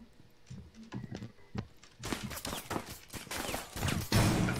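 Sharp shots from Rainbow Six Siege burst out in a quick cluster, loud and near, after a quieter lead-in of scattered clicks and thumps.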